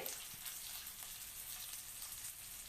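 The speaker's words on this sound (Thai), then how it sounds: "ที่เราพักน้ำมันไว้เมื่อกี้นะคะใส่ปลาลงไป" Fish pieces frying in hot oil in a pan give a soft, even sizzling hiss, faint and steady throughout with a few small crackles.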